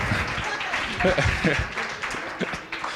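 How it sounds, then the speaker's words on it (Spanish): A church congregation applauds with a steady wash of clapping while a voice speaks over it. "Denle un aplauso a Eddie, denle un aplauso."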